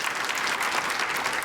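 An audience at a health-policy summit applauds the panelists after a panel discussion, a dense, even burst of clapping from a hall crowd with no talking over it.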